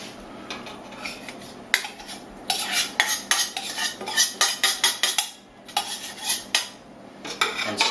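Pasta tossed with warmed pesto and sun-dried tomatoes is stirred in a pan, giving close, rhythmic bursts of metal utensil scraping and clinking against the cookware, with brief pauses between strokes.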